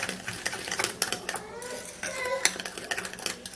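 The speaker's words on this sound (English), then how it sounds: "you stir it until the foaminess has gone down" A spoon clinks and scrapes against a bowl while stirring a lemon skin-care mixture until the foam settles. The quiet, irregular stirring ticks repeat close up throughout.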